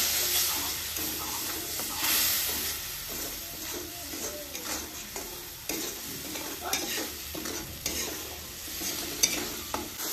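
Spice paste being stir-fried in a pan with a little water for a village-style rohu fish curry with taro and brinjal, giving a continuous hissing sizzle with repeated scraping of the spoon as the masala is worked.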